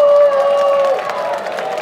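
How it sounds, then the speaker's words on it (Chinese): Audience at an anime and gaming convention stage show in Hong Kong cheering and clapping, a loud burst of crowd noise with a sustained whistle-like tone early, then fading slightly. "不如大家试下用一个热烈嘅欢呼声去迎接一阵间嘅表演"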